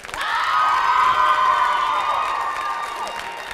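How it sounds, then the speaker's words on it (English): An audience at a high school Mr. pageant-style talent show applauds and cheers, with loud crowd whoops and shouting sustained throughout before easing slightly at the end. "I think that deserves another round of applause."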